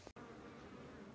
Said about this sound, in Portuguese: Pra aí, pessoal, coberta de abelha.